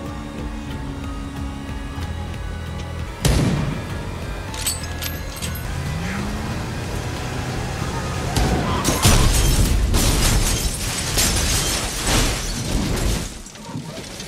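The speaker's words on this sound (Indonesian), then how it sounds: "tembakan Mike berhasil membuat mobil itu terpental" Gunfire and a car being blasted off the road in a Better Call Saul desert ambush scene: sharp cracks and bursts, a rising whine, then a long stretch of loud crashing, booming impacts and rumbling noise over a dramatic background.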